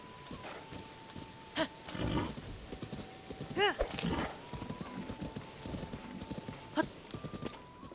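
Hooves clip-clop and a horse whinnies in The Legend of Zelda: Tears of the Kingdom, with game music tones and a speaking voice over the top.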